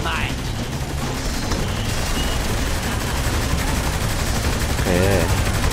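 Dual-wielded pistols firing in the open-world video game Saints Row: The Third, a dense, loud, continuous spray of shots layered over music and game effects, with a voice briefly talking near the end.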